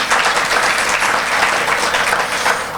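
Steady applause from a chamber of commerce showcase crowd greeting a state representative, a dense, even clatter of many hands that continues throughout.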